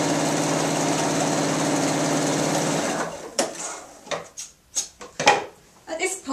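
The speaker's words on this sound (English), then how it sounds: "just machine along the top. Again, just stitching close to the fold line." Sewing machine stitching along the top fold of an apron, a fast steady mechanical whir for about three seconds, then stopping and giving way to clanks and handling sounds.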